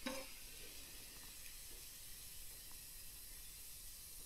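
Bacon lardons frying in a pan over a wood fire give off a steady, faint, soft hiss and sizzle that runs unbroken, with no voices over it.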